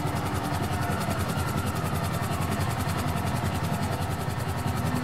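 A police helicopter in the video game GTA V makes a steady rotor chop over a heavy engine drone, constant and close with fast rhythmic blade beats.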